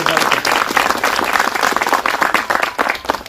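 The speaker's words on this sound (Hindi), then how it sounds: "एक बार मैं चाहूंगा सर पूरे दिल से एक बार उनके लिए जोरदार तालियां" An audience at a network marketing gathering breaks into loud, sustained applause for the speaker's upline and team, dense clapping filling the room without pause.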